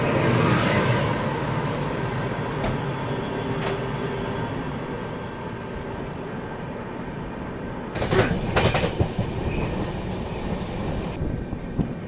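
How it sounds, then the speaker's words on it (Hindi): An Indian Railways passenger train, the Karnataka Sampark Kranti, runs along the tracks with a steady rumbling roar heard from on board, with louder rattling bursts of wheels over rail joints partway through. "देखो ऐसे ही रफ्तार में चल रही है गाड़ी।"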